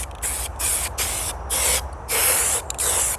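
Several bursts of aerosol spray paint laid on a BMW alloy wheel as a first coat, loud hissing blasts of roughly half a second to a second each, separated by short pauses, with no talking.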